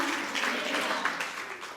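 A church congregation at a women's Christmas gathering claps together in a dense, steady wash of applause that fills the room at moderate volume, with no voices rising above it.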